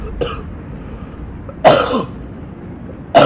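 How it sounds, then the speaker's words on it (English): A person hacks out three harsh coughs, spaced more than a second apart: a short one, then two heavier throat-rattling bursts, close and alone against faint room noise. "I had to cut just there because I was coughing up a lung."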